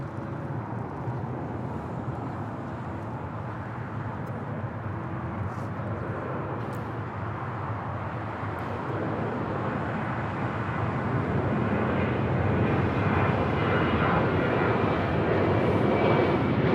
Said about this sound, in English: This is United Airlines 1228 taking off to Tampa